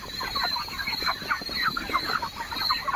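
Broiler chickens cluck in a dense, continuous chorus inside a company farm shed, many birds close together with a faint steady whine beneath.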